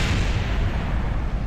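Rocket explosions in Kerbal Space Program make a dense, steady roar of deep rumbling blasts, loud and unbroken throughout with no talking.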